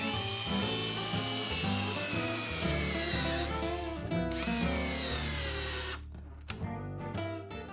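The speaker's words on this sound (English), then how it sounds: "First, boring pilot holes, then driving in weatherproof screws." A combination drill driver bores pilot holes into wood for an outdoor deck frame, its motor whining and winding down in pitch over steady background music at a low overall level.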